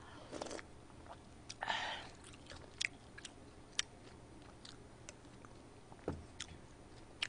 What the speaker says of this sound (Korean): 먹으면서의 그 소리가 좀날 수밖에 없는데